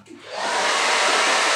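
A hair dryer switches on and runs with a loud, steady airy whoosh that rises within the first half second and then holds constant, with no talking over it.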